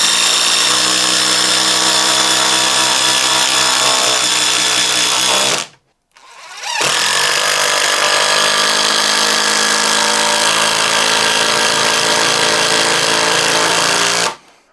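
Loud power drill grinding continuously as it drives a 5-inch power lag screw, pausing briefly about midway before resuming until it stops.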